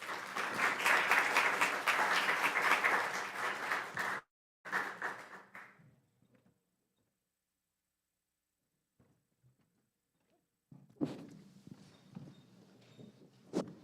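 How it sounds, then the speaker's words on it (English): Audience applause welcomes civil rights conference panelists to the stage, a dense wash of clapping for about four seconds, a shorter burst after a gap, then quiet before scattered rustling and clapping return. "let's welcome them to a stage with a nice round of applause"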